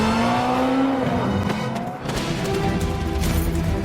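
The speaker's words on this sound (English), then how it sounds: "he gets away on his freaking cyberpunk motorcycle" Cyberpunk motorcycle from an animated Tomb Raider series speeds away, its engine whining and rising in pitch under a mix of screeching, impacts and action effects, loud and busy throughout.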